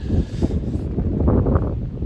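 Low, rumbling wind buffets the microphone in uneven gusts at a cliff edge, with no talking.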